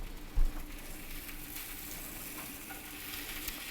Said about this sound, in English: They're really cooked through, so you just want to brown them.